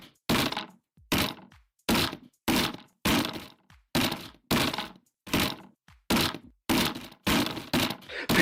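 Someone tries to force a door open, hitting it with a steady series of heavy crashing blows, roughly one every half second to a second, loud and close, with cracking and scraping in each impact.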